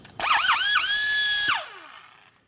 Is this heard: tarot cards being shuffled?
no